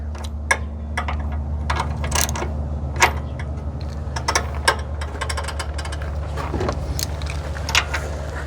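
A loose valve rocker arm rattles on a running Corvair engine, a light metallic ticking and clatter in irregular bursts over a steady low engine drone.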